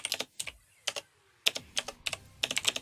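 Keys clatter on a computer keyboard in quick, uneven clusters of crisp, close taps with short pauses between bursts, and no voices.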